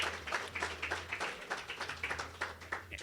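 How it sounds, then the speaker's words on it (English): Faint clapping from the audience at the 2014 Citizens For Milford candidates forum, with uneven bursts of applause over a steady low hum throughout. "Let's have a round of applause for the fantastic job."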